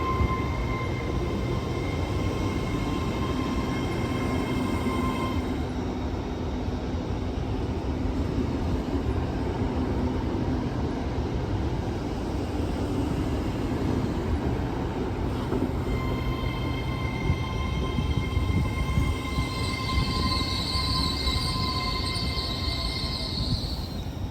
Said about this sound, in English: I assume this is a service from London King's Cross